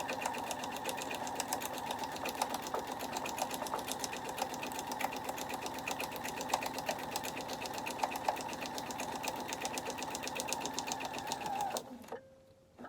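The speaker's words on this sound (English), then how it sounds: "Make sure you're stitching right on the line." A sewing machine runs steadily, stitching half-square triangles along a marked line, its fast even whirring close and continuous for about twelve seconds before stopping abruptly.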